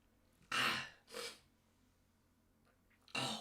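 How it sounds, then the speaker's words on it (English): A person lets out loud, close sneezes indoors: two sharp bursts in quick succession, a pause, then a third explosive one. "Oh, what a sneeze."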